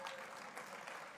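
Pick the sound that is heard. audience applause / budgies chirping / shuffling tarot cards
audience applause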